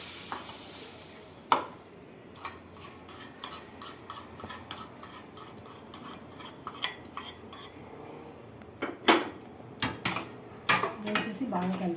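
Chilli pickle (mirchi pickle) being stirred by hand after cooled tempering oil is poured in, with repeated clinks of a spoon against a vessel, scraping and clattering in irregular bursts, close and moderately loud.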